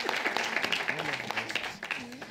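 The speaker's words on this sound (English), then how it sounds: "Round of applause for that." Audience applause during a televised talent-show elimination episode, a moderate steady clapping bed with a voice talking over it.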